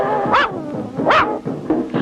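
A cartoon dog barks and yips in several short, loud bursts in quick, uneven succession, up close, with no talking.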